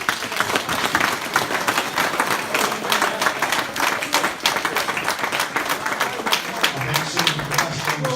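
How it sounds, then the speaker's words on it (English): A crowd gives a sustained round of applause for the football players who came to a game, loud dense clapping throughout with a voice speaking near the end. "so if you could give a round of applause please"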